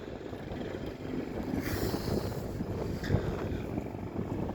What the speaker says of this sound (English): That wind will cut you in half out here.